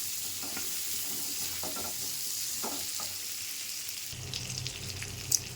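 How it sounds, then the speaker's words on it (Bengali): Tomato sizzles in hot oil with turmeric and salt, a continuous close frying hiss broken by a few stirring scrapes, with a louder clatter near the end and no talking. "হলুদ আর লবণ দিয়ে টমেটোটা ভেজে নিয়েছি"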